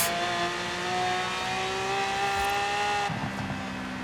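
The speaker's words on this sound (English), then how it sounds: "it's got a better overrun sound as well" Game car engine note holding steady then cutting off, followed by a few faint exhaust pops and crackles on overrun, no talking.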